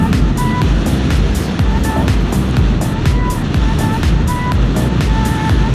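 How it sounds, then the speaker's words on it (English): Suzuki GSX-8R motorcycle engine and intake droning steadily while riding on a parkway, with heavy wind rush over it and a constant loud roar throughout. "At least the noise from the intake should be a little bit more pronounced."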